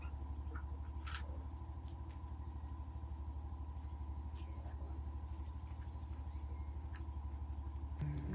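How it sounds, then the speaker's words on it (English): A motorcycle engine in a remote mountain village drones with a steady, low mid-pitched idle for the whole stretch, close and even, with faint clicks and rustles over it and no talking. "returns home on his motorcycle"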